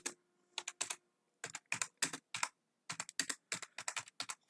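Quick bursts of typing on a computer keyboard, close and crisp, clusters of keystrokes separated by short silent pauses, no talking.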